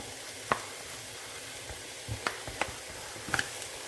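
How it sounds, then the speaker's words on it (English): Beef mince, 600 grams, sizzles after going into a pan with vegetables, a soft steady frying hiss broken by a few sharp crackles and pops. "Just going to add the mince now."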